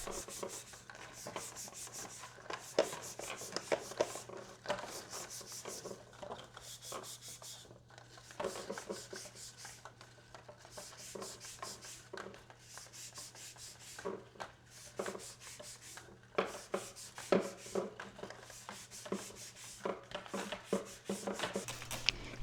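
Window blinds being scrubbed to remove grease, repeated rhythmic rubbing strokes in short bursts, close but quiet, with brief pauses between passes and no talking.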